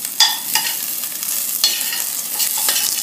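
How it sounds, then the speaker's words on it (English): Steak au poivre sizzles loudly in a hot pan alongside roasted potatoes and green beans, a continuous close hissing fry punctuated by sharp scraping stirs and clatters. "Check out that sizzle"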